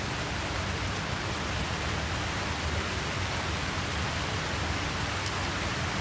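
Steady rain falling at an outdoor sports broadcast during a championship game, a constant, even hiss of rainfall with no voices and no breaks.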